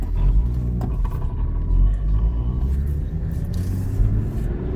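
A Nissan Patrol engine pulls the vehicle along while driving, a loud, steady low rumble from inside the cabin that swells slightly as it accelerates, with a voice faintly underneath.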